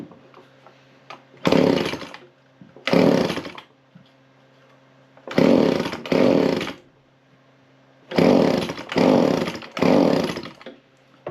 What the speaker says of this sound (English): Right, so let's start it up.